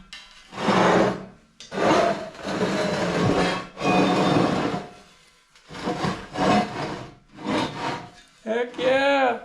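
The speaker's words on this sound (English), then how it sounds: "We gotta grind them out though." An angle grinder works on tack welds on a steel welding project, loud rasping bursts of grinding in several separate passes with short pauses between them, close by.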